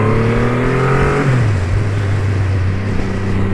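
Triumph Rocket III GT motorcycle with a 2500cc engine revving hard up to its rev limiter cut near 4000 rpm, a loud, close, steady roar with a pitch dip midway, no talk over it.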